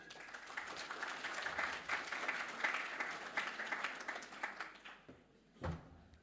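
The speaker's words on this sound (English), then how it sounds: "So I'd like to give you a round of applause and we'll bring them up on stage." A conference audience gives a sustained round of applause at an event on Indigenous-led pest and weed management, dense steady clapping that tapers off near the end.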